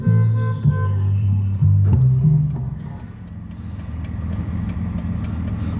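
A 1965 Mercedes-Benz 230 SL engine runs with a steady mid-pitched drone, then eases to a lower hum as the car pulls away, heard close with no talking.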